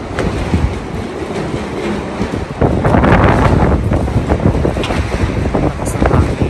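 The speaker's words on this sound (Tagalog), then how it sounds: "Lakas ng hangin." Strong wind buffeting a microphone outdoors in Copenhagen near Frederik's Church, heavy broadband rumble and gusty roar that swells louder midway and stays constant to the end.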